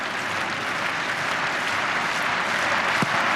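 A stadium crowd roars and applauds during the 2004 Olympic football match between Argentina and Paraguay, urging Paraguay forward. The wash of noise is broad and steady from start to end, distant and continuous, with no single voice standing out.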